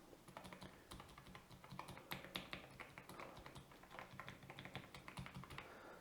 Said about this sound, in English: I took some lube from my bike and put bike chain lube inside these switches